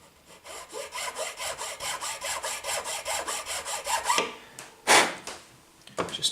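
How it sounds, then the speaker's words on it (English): A nut file rasps through the slot of a guitar nut in quick, even back-and-forth strokes, close and clear, followed by a few scraping and knocking sounds as the work pauses. "Just filing a little bit of it at a time, setting it in."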